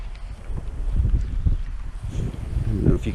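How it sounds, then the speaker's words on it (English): Gusty wind buffets the microphone in low rumbling bursts while bass fishing, with faint water and outdoor rustle beneath. "Pretty windy back here"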